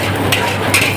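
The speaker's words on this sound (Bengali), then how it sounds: "এভাবে হালকা লাড়াচাড়া করতে হবে।" Vegetables for chow mein stirred in a hot pan, a steady sizzle of frying with a couple of brief scraping strokes of the spatula, close and continuous with no talk.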